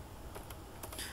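Faint computer keyboard typing, a handful of soft key taps in quick irregular succession against a hissy, quiet background while an email address is entered.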